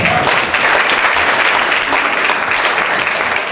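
A worship congregation claps and applauds steadily and loudly throughout, a dense continuous wash of hand claps filling the space.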